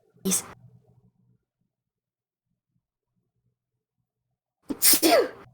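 One sharp sneeze bursts out near the start, followed by silence, then a second loud, close sneeze near the end.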